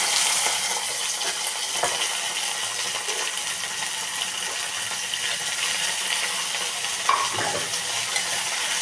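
Cluster beans go into hot oil with fried onions in a pan, sizzling steadily with occasional scraping stirs and light clinks, close and continuous with no talking.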